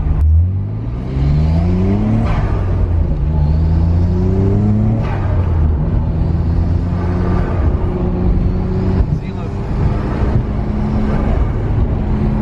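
A Nissan Skyline R34 pulls away from a green light, the engine rising through a few gear shifts under steady wind rush, sounding moderately close with no voices.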